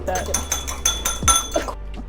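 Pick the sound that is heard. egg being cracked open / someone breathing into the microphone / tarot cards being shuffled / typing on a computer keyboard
egg being cracked open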